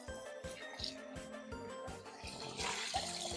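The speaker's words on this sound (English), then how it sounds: "we're going to take our chicken and actually wash it properly with water in the sink" Raw chicken being washed under running water in a kitchen sink, a faint steady splash with rhythmic knocks and clinks, water gushing louder near the end.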